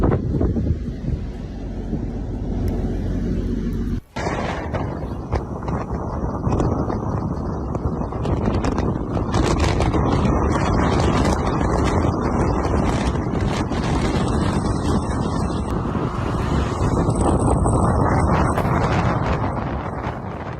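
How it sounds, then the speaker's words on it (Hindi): Strong wind roaring in a sandstorm in Egypt, loud and continuous broadband gusting buffeting the microphone with a brief dropout near the start. "तेज हवाएं और रेत का तूफान यहां पर लोगों की परेशानी का सबब बना हुआ है।"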